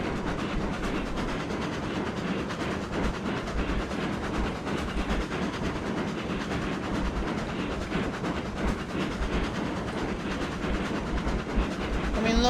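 Several locomotives haul a long string of log carriages in the Railroads Online game, giving a steady, dense rumble of rolling wagons with faint rhythmic clatter throughout.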